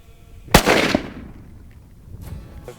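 A single loud, sharp rifle gunshot on an African plains game hunt outdoors, its crack followed by a rolling echo that fades over about a second, with a faint later thump.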